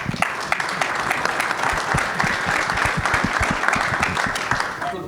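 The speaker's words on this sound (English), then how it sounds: "So please give the panel a round of applause." Audience at an engineering panel discussion forum gives a full round of applause, dense steady clapping from a room of people throughout with no speech over it.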